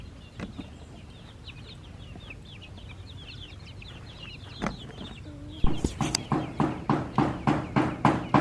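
Chickens and chicks cluck and peep around a farmyard, faint chatter at first, then a close run of rhythmic, evenly spaced clucks grows louder toward the end.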